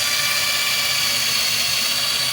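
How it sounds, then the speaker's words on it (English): A power drill runs steadily under pressure, giving off a constant high-pitched motor whine with a dense, even hum that never lets up. "Well, here's my drill. I am starting to hear that. I'm going to put some pressure on it."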